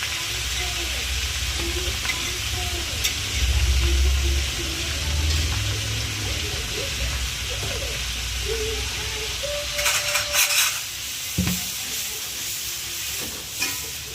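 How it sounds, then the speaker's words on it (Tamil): Vallarai (Centella) leaves sautéing in oil with urad dal, chilli and tamarind for a chutney, a steady close sizzle with occasional stirring scrapes, and a few brief background sounds partway through. "உளுத்தம்பருப்பு மிளகாய் புளி இதெல்லாம் போட்டு வல்லாரையை போட்டு இப்போ வதக்குன்னு வதக்கிட்டாங்க"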